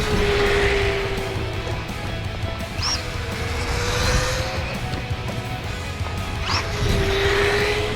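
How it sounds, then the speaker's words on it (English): A Losi ProMoto MX electric radio-controlled motocross bike pulls wheelies outdoors, its motor whining in rising and falling pitch sweeps over steady background noise as it revs, passes and comes back. "Look at that thing ripping wheelies."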